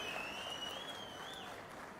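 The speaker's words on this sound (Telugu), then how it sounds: "గట్టిగా చప్పట్లు కూడా అభినందించండి." Steady applause from an audience at a public address by the chief minister in Nellore, a dense even wash of clapping held throughout, with a thin whistle-like tone running over it.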